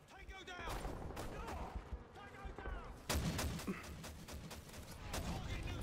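Rapid bursts of gunfire in the video game Modern Warfare 3, Infected mode, crackle repeatedly and loudly with game effects, a louder volley hitting around the midpoint, over a busy mix with speech mixed in.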